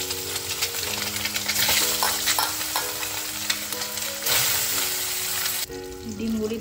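Eggs mixed with salt and turmeric frying in hot oil left over from frying brinjal, a steady loud sizzle with occasional stirring and scraping in the pan, no talk.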